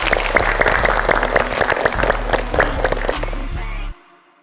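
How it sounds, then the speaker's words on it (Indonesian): A room full of people applauding after a posing exercise at a creative director challenge, loud sustained clapping that stops abruptly near the end. "Tepuk tangan."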